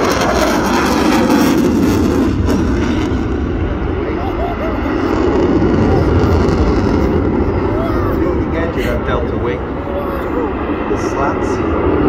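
A jet aircraft roars past at the Ayr air show, a loud, sustained rumbling jet noise that swells and eases slightly while people talk nearby.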